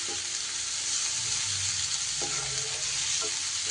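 Chopped onion frying in hot oil in a pan for an egg dish, with a steady sizzle and occasional scrape of stirring, close and continuous with no talking.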